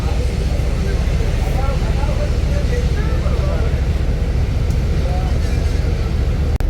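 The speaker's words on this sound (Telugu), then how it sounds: "మళ్ళీ ఇండిగో ప్లేన్ పోతుంది." Steady loud jet engine roar from an IndiGo airplane at an airport apron, a continuous broadband rumble filling the whole stretch with a voice talking over it.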